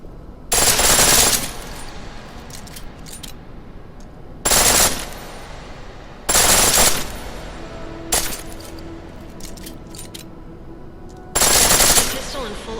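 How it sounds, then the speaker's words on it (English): A pistol fires full auto in Deus Ex: Mankind Divided, several short sharp bursts spaced a second or two apart, loud against a quiet background. "The pistol in full auto will take down targets fast, but it'll burn through your ammo."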